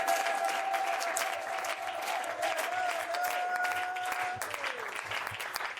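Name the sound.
congregation applauding during church service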